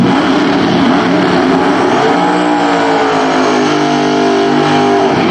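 Drag race car on its first pass with new equipment at a raceway during Hot Rod Drag Week, engine roaring loud and continuous as it accelerates, pitch climbing through the run with no talk.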